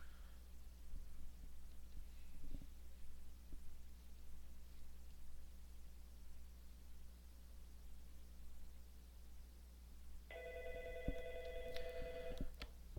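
Office desk phone rings with an incoming call near the end after a long stretch of quiet room tone, a short electronic ring pattern that is clear but not loud.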